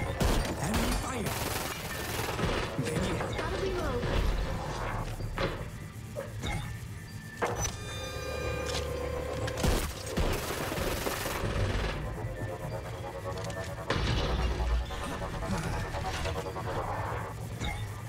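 Enemy gunfire in the Hyper Scape battle royale shooter, heard as dense, continuous rapid bursts and impacts throughout, layered with other game effects and sharp hits.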